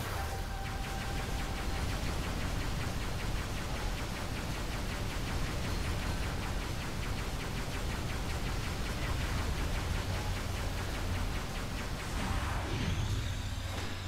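Acid rain falls steadily in the video game Metroid Prime 3: Corruption, a dense, even hiss of noise that runs throughout with faint game effects rising near the end.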